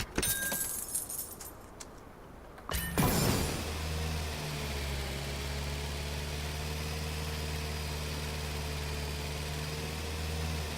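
A tractor in the farming video game Farm Together: after a burst of jangly clatter, a steady low engine hum settles in and runs evenly for the rest, moderately quiet with no talk.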